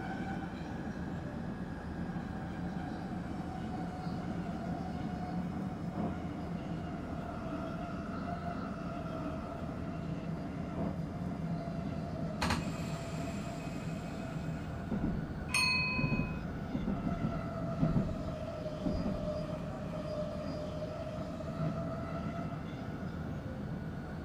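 Dutch stopping train 30824 rolls toward Zutphen, a steady low rumble of wheels and traction motor humming throughout, with a couple of sharp high squeals or signal tones partway through.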